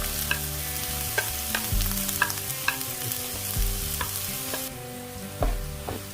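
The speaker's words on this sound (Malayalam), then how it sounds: "നമ്മൾ ഉള്ളിയിട്ട് ഇഞ്ചി കൂടെ വഴറ്റാനിട്ടേക്കാണ്" Onion and ginger sauté in a pan for fish cutlets, sizzling steadily with repeated sharp scrapes and clinks of a spoon stirring through the mix, close and fairly loud throughout.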